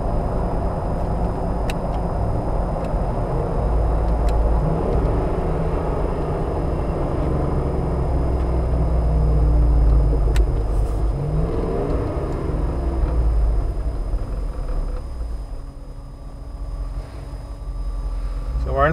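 A car fitted with a MoTech Gen IV module, shifted manually, drones steadily as the engine note drops and eases through downshifts, with a low rumble throughout and the cabin sound fading near the end.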